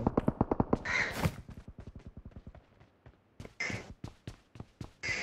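Crows cawing inside the BGMI battle royale game, a run of sharp repeated caws in quick succession with brief gaps, then another cluster of loud calls near the end, heard alone without talk.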